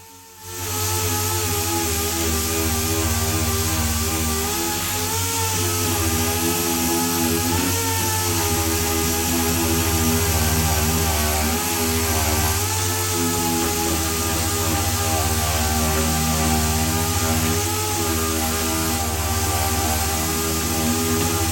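A dual action polisher whirs without a break across the bodywork of a Corsa D SXi. Its loud motor tone wavers slightly in pitch as pressure changes.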